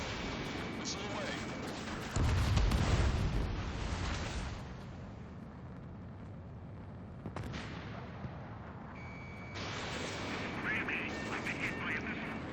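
In the combat flight game Ace Combat 7 Skies Unknown, a heavy booming blast of missile impact and gunfire rumbles up suddenly, then falls back to a muffled roar of battle while radio voices speak in the background.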